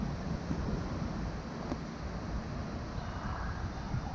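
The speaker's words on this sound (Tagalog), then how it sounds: "Mahangin." Steady wind blowing through an autumn park, a continuous broadband rush with slight gusting swells and no talk over it.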